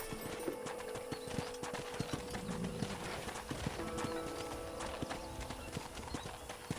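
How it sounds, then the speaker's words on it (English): Rapid rhythmic hoofbeats of a horse galloping in the Red Dead Redemption video game, a continuous clip-clop at moderate volume. "let's see if you can still ride a horse"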